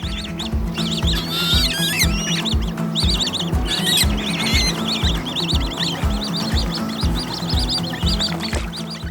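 Goslings on a European goose farm raised for meat, liver and feathers, a flock peeping and chirping in many overlapping high calls over a steady, rhythmic mechanical thumping close by.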